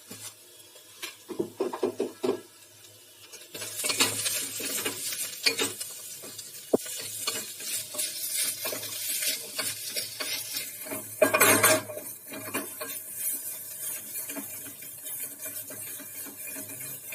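Lotus stem fried with spices in a pan for Kashmiri lotus stem and spinach curry, with a spoon stirring and scraping against the metal while oil sizzles steadily and loudly, close up, no voices.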